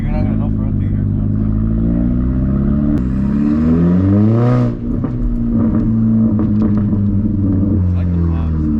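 A revving Volkswagen MK4 GTI 20th Anniversary Edition engine with a 3-inch catless downpipe drones steadily with rising and falling pitch, loud and close, with a few faint crackling exhaust pops near the end as people talk over it.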